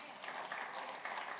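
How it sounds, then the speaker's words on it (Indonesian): Church congregation applauding during an Indonesian Pentecostal service, a steady wash of many hands clapping together at moderate volume for a short burst. "Tepuk tangan buat Tuhan."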